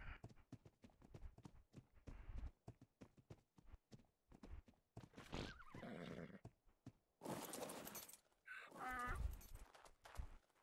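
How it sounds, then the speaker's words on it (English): In a video game, hooves clip-clop in a steady series of close knocks, followed by a horse's loud, wavering neighs and snorts. "Give me a second to put this horse away."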